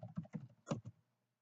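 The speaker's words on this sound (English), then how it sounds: "So I'm going to type out some text here." Typing on a computer keyboard while writing Arduino code: a quick burst of about six close, soft keystrokes in an uneven rhythm, then silence.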